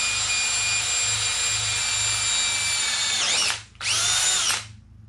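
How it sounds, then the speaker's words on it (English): A power drill bores through metal in a long, loud, steady whine, dips briefly as the bit pauses, then resumes before tapering off near the end. "I'm going to scoot away and see if I can't try to drill that metal out."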